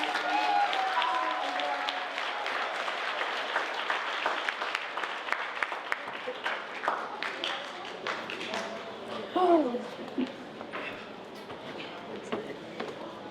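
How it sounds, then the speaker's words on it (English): Applause rises from the crowd at an evening awards ceremony, a full round of steady clapping that thins gradually over about thirteen seconds, with a brief whoop or cheer partway through and scattered voices beneath. "Let's give a full round of applause for all of our excellent"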